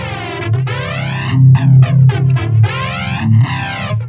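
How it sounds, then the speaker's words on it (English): Electric guitar through a studio-style flanger on a Neural DSP Quad Cortex, sweeping jet-like swooshes over sustained chords, close and prominent with no talking. "And then I have a flanger here."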